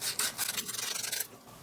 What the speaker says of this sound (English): I've been sanding this for about 5 minutes straight now